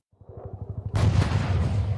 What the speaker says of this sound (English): as bullets and booms shatter the evening air